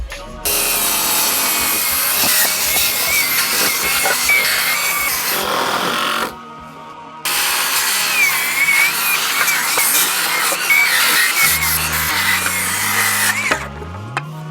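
A power saw cuts through wooden deck boards in two long, loud, close passes separated by a short pause, with the motor winding down in low, stepped tones at the end.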